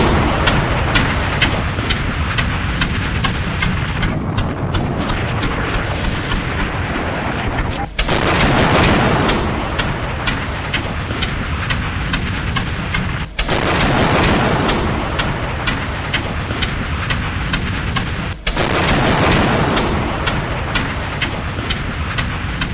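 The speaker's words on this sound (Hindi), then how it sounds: "अमेरिका के इस अटैक के बाद जोरदार धमाके होते हैं वेनेजुएला में" Heavy explosions from a US air strike bombing in Venezuela: a dense, continuous roar of blasts and rumble, broken by three sharp, bright detonations spaced several seconds apart, loud and close, with no voices.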